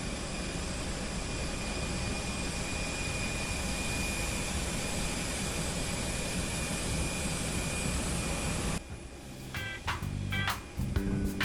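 A Solomon Airlines Airbus A320, a 21-year-old ex-Air New Zealand jet, whines steadily at the boarding gate with a constant high tone, then the roar cuts to quieter ambient noise near the end.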